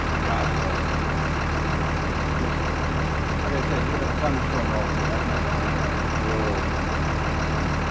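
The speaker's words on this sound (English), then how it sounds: "let me turn off the noise of the truck" A truck engine idles nearby outdoors with a steady, low, rumbling drone that stays unchanged for about eight seconds.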